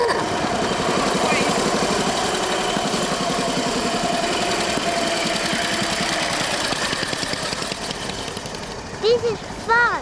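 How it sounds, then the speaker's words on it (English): A motorbike engine runs steadily with a rough, pulsing low throb that stays loud and close for most of the clip, thinning toward the end where brief voices or squeaks break in. "I like riding grandpa's motorbike."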